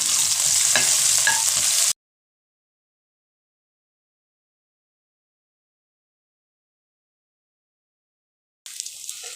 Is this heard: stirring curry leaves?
yes